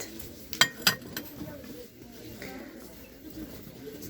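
Two sharp ceramic clinks ring out close by, like plates or bowls knocking together, followed by quieter handling sounds in a hushed room.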